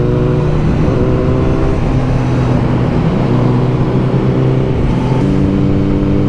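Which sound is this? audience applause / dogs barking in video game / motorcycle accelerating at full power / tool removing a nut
motorcycle accelerating at full power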